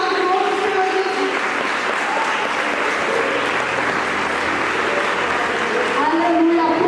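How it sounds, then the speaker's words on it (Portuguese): A church congregation applauds in a steady, dense roar of clapping that holds at full strength throughout. "aplausos o Senhor, aquele mais forte"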